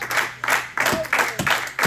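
A church congregation claims in rhythmic bursts, loud close-up applause swelling and easing in roughly regular waves, with some crowd voices mixed in.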